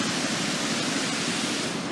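A waterfall under an old train track bridge near Idaho Falls gives off a steady, broad rushing roar that stays even and continuous throughout, with no voices.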